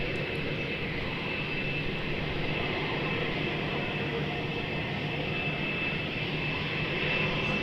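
A Malaysia Airlines Airbus A330neo at Melbourne Airport produces a steady, sustained jet engine roar at moderate volume, with no break for nearly eight seconds.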